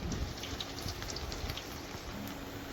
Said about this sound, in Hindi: आज हमारे गांव में बारिश हुआ है